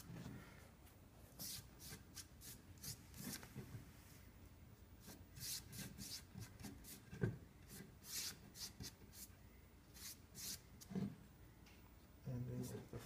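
Wooden violin pipe for a band organ being smoothed by hand, giving repeated short rubbing and rasping strokes in irregular bursts, close and moderately quiet, with occasional soft knocks.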